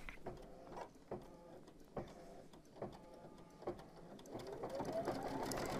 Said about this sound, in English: And I am going to start, and I'm going to stitch the leg down.